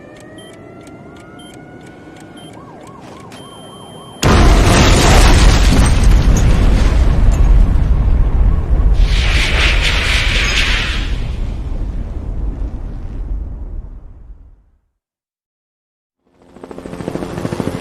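A huge explosion erupts in a Twisted Metal 2 cutscene, a sudden loud blast that roars and rumbles for several seconds before fading to brief silence, after quieter music and sound effects.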